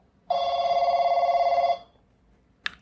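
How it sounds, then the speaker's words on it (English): Telephone ringing in a hotel room: one long, loud, steady electronic ring burst lasting about a second and a half, then quiet, with a brief sharp click near the end. "I'm getting a phone call in the hotel room."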